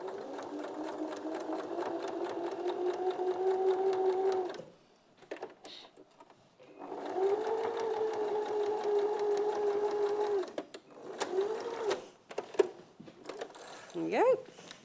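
A sewing machine stitching a quilt-as-you-go project runs in two steady, humming stretches with a short pause between them, followed by brief fabric handling and ripping sounds. Faint talk is mixed in.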